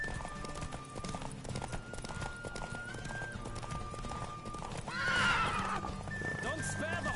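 Horse galloping with rapid clip-clop hoofbeats in The Witcher 3 Wild Hunt race, over a music bed, with a loud neigh rising near the end.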